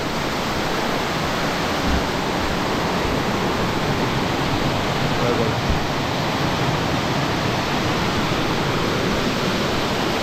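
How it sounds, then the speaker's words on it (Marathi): A loud waterfall beside a Ganesh temple in the Konkan region roars in a steady, dense rush of falling water, close and unbroken, with no voices. "पाण्याचा एवढा आवाज होता ना जोरात बापरे"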